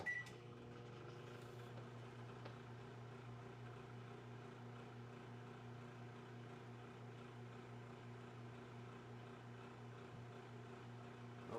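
A faulty microwave oven hums steadily with a low electrical drone throughout, with a short beep near the start.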